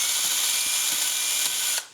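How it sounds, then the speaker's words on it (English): Power drill opening a bolt hole in an MGB exhaust manifold during repair, a close, loud continuous whir with faint rhythmic catches, cutting off abruptly at the end. "with this we can go ahead and use our drill and open up the"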